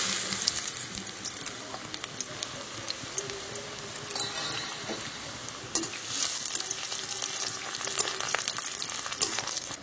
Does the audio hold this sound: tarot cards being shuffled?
no